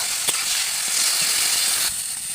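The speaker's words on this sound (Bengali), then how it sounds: "এখন দিয়ে দিব বেটে রাখা ধনে আর লঙ্কা, এটা একটু দিয়ে নাড়িয়ে করে নিয়ে ভেজে ভাজা ভাজা করে।" Ground coriander and chili paste frying with small fish in a pan, a loud steady sizzle and hiss with a few brief stirring bumps.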